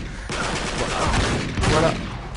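Continuous rapid gunfire from the PS3 game Uncharted 3: Drake's Deception, a dense burst of shots filling the whole moment at close range.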